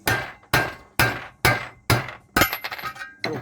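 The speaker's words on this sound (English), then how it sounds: "Get yourself a decent size hammer," A hammer drives a bolt used as a makeshift punch: five sharp, evenly spaced metallic strikes ring out about half a second apart, followed by a rattling clatter of smaller metal impacts.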